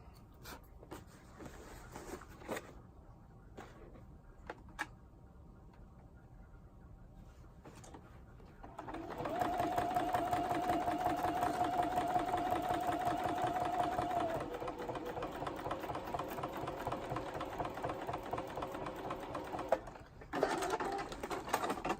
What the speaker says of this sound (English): That is really the thing about free motion quilting, is you're having to regulate the foot pressure, the hand movement